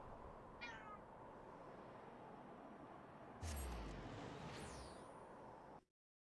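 A cat gives a couple of short, faint meows against a steady background hiss, one early and another with a rising chirp near the end, with a brief rumble between them.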